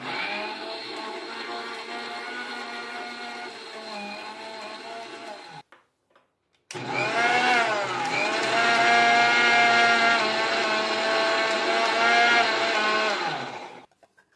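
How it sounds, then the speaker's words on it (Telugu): A kitchen mixer grinder blends mango leaves with water into a paste, its motor whining loud and steady. After a short pause it starts again at full speed, runs for several seconds, then stops. "కొంచెం మిక్సీ చేసి వాటర్ యాడ్ చేద్దామా?"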